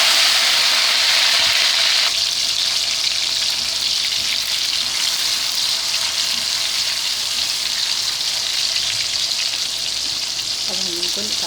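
Tomatoes frying in a pan for Peshawari boti, a steady, loud hiss of oil sizzle that runs through the whole stretch with little change.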